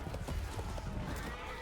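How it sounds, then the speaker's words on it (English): A horse in Chivalry 2 gallops toward the listener, its hooves pounding in a rapid, continuous rhythm over a low rumble of battle noise. "The horse is coming towards us."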